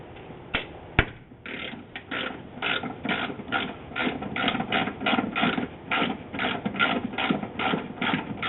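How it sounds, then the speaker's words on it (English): A 10mm socket ratchet loosening bolts in the trunk of a Mazda Miata MX5 makes close, rapid ratcheting clicks in repeated bursts, with a couple of sharp knocks near the start. "we need to remove these 2 bolts using a 10mm socket or wrench"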